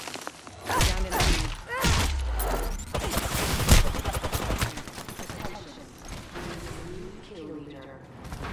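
Rapid gunfire bursts in the battle royale game Apex Legends, sharp and close, clustered in the first few seconds and tailing off, with a player talking over the shooting.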